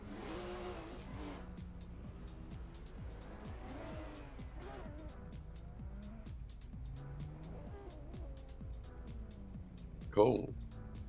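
A Toyota Supra race car drives during a drift competition, engine roaring with a brief tire squeal near the end, heard under steady commentary.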